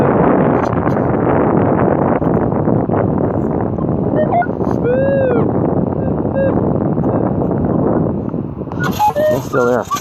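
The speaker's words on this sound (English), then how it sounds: "You're probably getting a bunch of wind in your ear, too." Wind buffeting a microphone on a beach, a steady loud broadband rumble that fills the whole clip, with faint electronic tones rising and falling midway and a person talking near the end.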